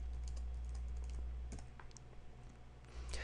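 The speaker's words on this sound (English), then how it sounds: "Let's see if we type that in properly." Scala code is typed on a computer keyboard as a quiet, irregular run of close key clicks over a low steady hum.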